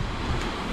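Ocean waves wash continuously around a sailboat on an Atlantic crossing in the tropics. The sound is a steady, broadband rush of surf with some wind noise, close and fairly loud, and no voices.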